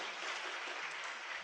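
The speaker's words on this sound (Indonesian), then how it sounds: "Tepuk tangan buat Bapak Ibu semua." Audience applause at an indoor talk event, a steady dense wash of many hands clapping at moderate level with no talk over it.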